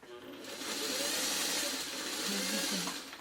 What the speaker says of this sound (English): And I'm going to sew all the way to the end.